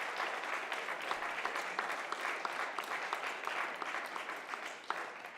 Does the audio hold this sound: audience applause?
yes